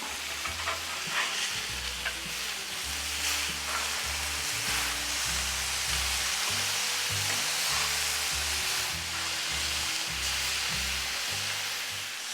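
Brisket smash burgers sizzle loudly and continuously on cast iron and soapstone cooking surfaces, a dense, steady frying hiss punctuated by faint crackles and spatters throughout.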